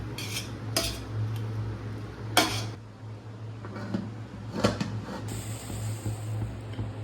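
A metal spoon stirs and mixes chicken biryani in a pot, giving several sharp scraping clinks and knocks against the metal at irregular intervals over a low steady hum, close by and without speech.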